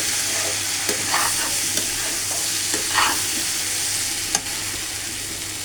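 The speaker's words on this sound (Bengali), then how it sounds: "ডাউলটা দিয়ে ভালো করে এটা কষিয়ে নেব" Chickpea dal frying with onion, chili and spices gives a steady, close sizzle, broken by occasional scraping stirs of a spoon against the pan, with no talking.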